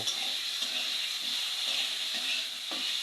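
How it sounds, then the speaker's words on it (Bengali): A metal spatula scrapes and stirs spices around a hot wok for jujube chutney, steady sizzling hiss under rhythmic scraping strokes, with no talking. "আমরা খুব ভালো করে বেশ কিছুক্ষণ কড়াইতে খুন্তি দিয়ে নেড়ে চেড়ে নেব।"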